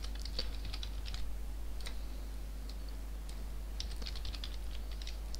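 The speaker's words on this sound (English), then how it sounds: "press spacebar and type in AO" Computer keyboard typing in sparse, quiet clusters of light key clicks, close but faint over a steady low hum.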